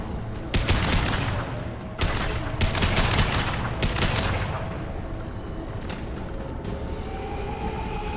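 Weapons fire in Mass Effect 2 in bursts of loud, sharp volleys, with mechanical clanks between them, then fade into a lingering rumble.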